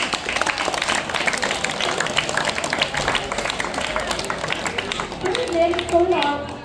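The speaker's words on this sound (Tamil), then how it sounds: "கைத்தட்டல் கொடுக்கவும்" Audience applause at a government high school Tamil literary event, scattered clapping that swells near the end, with a voice speaking over it.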